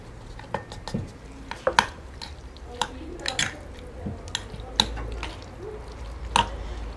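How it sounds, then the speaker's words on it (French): Salad ingredients stirred and tossed together in a dish, giving irregular wet clicks and soft squishy taps of a utensil against the bowl, close up and fairly quiet. "il suffit de mélanger tous ces ingrédients ensemble"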